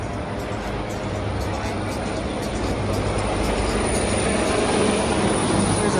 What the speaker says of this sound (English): That's a hospital helicopter.